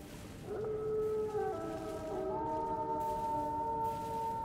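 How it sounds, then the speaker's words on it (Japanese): Howling in the video game Elden Ring, inside a spirit-calling cave: a long, layered, mournful howl with several overlapping voices, moderately distant, sustained over a steady ambient hum. "遠吠えだ。"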